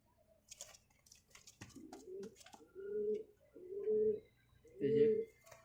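A male pigeon coos close by in four deep, rolling bursts spaced about a second apart, with faint chirps and a little background talk before the cooing begins.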